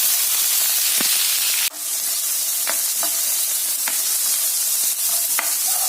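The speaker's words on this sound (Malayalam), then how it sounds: "ഇഞ്ചി, വെളുത്തുള്ളി, കറിവേപ്പില, ബിഗുളിയും ഇതൊക്കെ ഇട്ട് വഴറ്റുന്നു." Coconut pieces, ginger, garlic and curry leaves sautéing in hot oil with mustard seeds for a prawn roast give a steady close sizzle and hiss, broken by a few brief clicks of stirring, with no talk.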